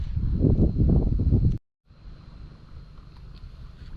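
Strong wind gusts over the Songkhram River in Thailand during lift-net fishing, buffeting the microphone in loud, low rumbling surges. It drops out briefly, then returns as a softer, steady rush.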